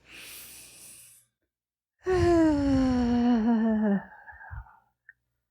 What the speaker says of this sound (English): Let's take a deep breath through your nose.